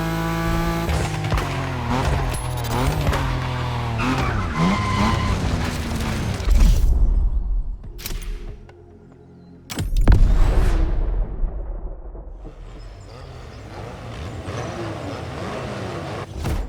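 A car drifts on a festival drifting track in The Crew Motorfest racing game, with a loud revving engine, squealing tires and a couple of sharp impact booms, a brief lull midway, then the engine roaring back.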